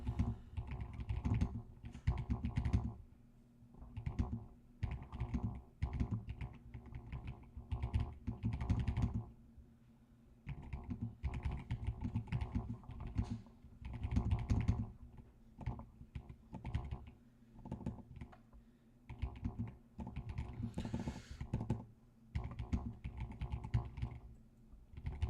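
Rapid clicking keystrokes on a newly acquired computer keyboard during a UI design session, typed in irregular bursts with brief pauses, close and clear with no talk.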